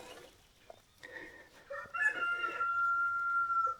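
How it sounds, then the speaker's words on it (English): A rooster crows on an off-grid rural property: one long, loud, drawn-out crow rising near the end after a few softer clucks and rustling background sounds. "That's our rooster."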